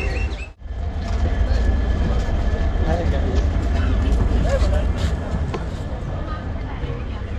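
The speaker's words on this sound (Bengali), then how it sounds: "এটা হচ্ছে এখানকার লোকাল ট্রেন, রামপুরহাট জংশন যাবে।" A local train bound for Rampurhat Junction rumbles steadily at Dubrajpur station, a loud continuous roar of rolling cars and rail noise that fills the whole stretch without letting up.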